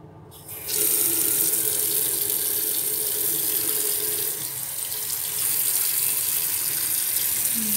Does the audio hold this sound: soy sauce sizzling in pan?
no